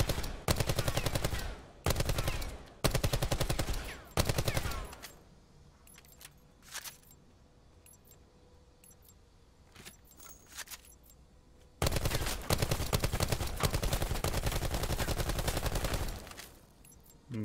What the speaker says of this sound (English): Man, shooting from the hip is not accurate at all.